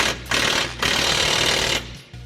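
A power tool rattles in rapid hammering bursts while undoing an 18mm shock bolt on a BMW E36, with two long close bursts separated by short pauses.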